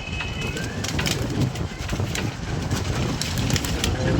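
Pigeons cooing outdoors, soft repeated coos near and far over a steady wash of wind noise, with no speech.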